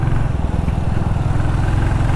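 A 2021 new-generation Royal Enfield Classic 350cc single-cylinder motorcycle engine thumps steadily and loudly while being ridden, with a low, even rumble and no voices.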